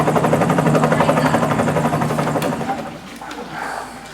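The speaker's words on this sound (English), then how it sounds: "Helicopter." Helicopter rotor chopping in a steady rapid pulse with engine drone, loud and close for most of the clip, easing off near the end under a radio-drama scene with a voice briefly heard.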